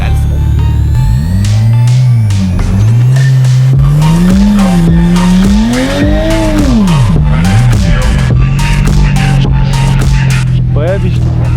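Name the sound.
car spinning its wheels, tires squealing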